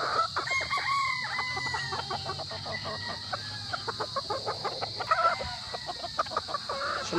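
Boston Roundhead gamefowl at a game farm, with roosters crowing and hens clucking in a busy chorus of repeated calls, some close and some farther off, over steady background insect or farm noise.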